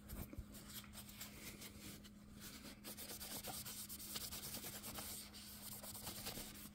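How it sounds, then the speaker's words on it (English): Cloth or rag wiping excess finish off the body of a Taylor ES acoustic guitar, a soft continuous rubbing that stays faint and steady under a low constant hum, with no talking. "Let's take something and wipe the excess off."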